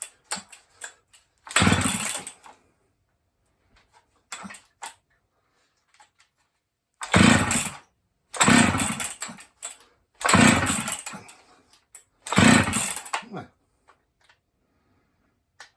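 Husqvarna 268 chainsaw being pull-started: several short bursts of engine sputter and cranking, with gaps and small clicks between, loud and close as it tries to catch.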